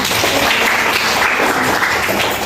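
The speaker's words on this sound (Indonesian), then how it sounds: "Beri tepuk tangan." Classroom applause from a class of pharmacy students, steady clapping filling the room for a couple of seconds with no talk over it.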